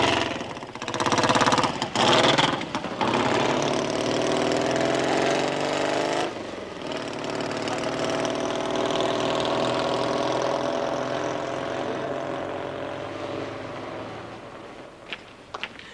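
Newly completed custom chopper motorcycle from a 1970s English Hells Angels chapter, its engine revving in short bursts early on, then settling into a steady, sustained drone that slowly fades toward the end.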